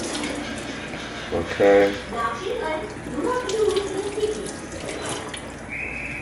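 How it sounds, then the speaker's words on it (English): Raw chicken rinsed under a running kitchen tap, a steady splashing water stream with hand movements, while someone talks over it intermittently. "Now I'm going to just wash the chicken so we can eat fresh and clean"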